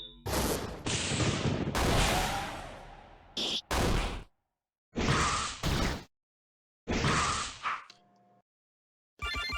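Spark attack special skill in an RPG Maker MV battle: a series of sharp crackling bursts and swooshes, several separate loud hits with short silent gaps between them, ending in a brief tonal effect.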